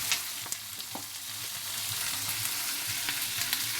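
Chicken fried rice stir-fried in a pan, a steady close sizzle with scattered clicks and scrapes of a utensil stirring through the rice.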